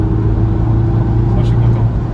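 Inside a reprogrammed S1, the engine drones loud and steady as the car accelerates, a deep constant rumble filling the cabin with voices present.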